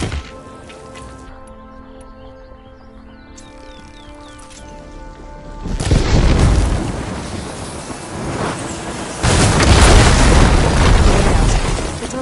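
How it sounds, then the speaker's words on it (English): Blaze barrels hit with fire ammo explode in Horizon Forbidden West: a quiet ambient stretch gives way to a loud, roaring blast, then a second, even heavier explosion a few seconds later, each trailing off in a long rumbling wash. "I should be able to blow this up to clear hitting those blaze barrels with fire ammo."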